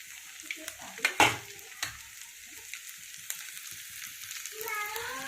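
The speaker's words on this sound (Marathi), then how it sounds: "आता आपण त्याच्यामध्ये शेव पाडून घेऊया." Sev dough, a gram flour snack, pressed into hot oil bursts into a sudden loud sizzle with a sharp spike of bubbling, then settles into a steady crackling fry with light tapping sounds, close and without talk.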